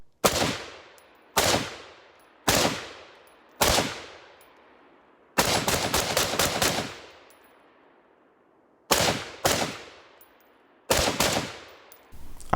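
An AR pistol fired in testing outdoors: loud, sharp single shots at about one-second intervals, then a fast rapid string, a pause, and more quick shots, each ringing briefly before decaying.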